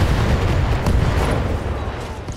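Weapon fire in the Battletech mech combat game, a dense rumbling barrage of booming impacts and explosions that rolls on loudly and gradually tapers off.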